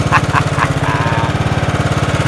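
An old John Deere RX73 riding lawn mower engine, a barn find, runs at a steady fast idle with a continuous even low pulsing chug, close and loud, and some brief clatter near the start.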